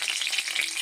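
Bay leaf and dried chili frying in hot oil in a heated wok, a steady close crackling sizzle with no voices.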